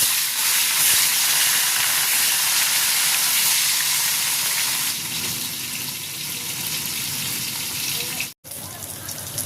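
Rohu fish pieces hiss and sizzle steadily in hot oil, a dense, loud broadband frying noise that holds for about nine seconds with a brief cut near the end.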